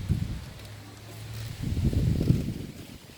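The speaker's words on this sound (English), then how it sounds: "Oh, it's dark and windy." Gusty wind rushes through a Florida backyard under dark skies ahead of a storm, a soft low rumble swelling louder in the second half with faint leaf rustle.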